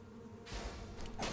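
Bees buzzing in the video game Stoneshard, a soft, steady droning hum that swells slightly partway through, faint and alone without talk.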